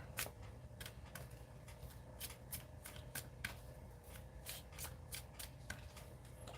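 Cards being shuffled in a rapid run of crisp riffling flicks, close and fairly quiet, with no talking.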